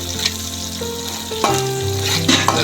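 Spices fried in oil in a pan for a Telugu cucumber curry (dosakaya boti curry), stirred steadily, with a continuous close sizzle and scraping tones of the utensil against the pan, no talk.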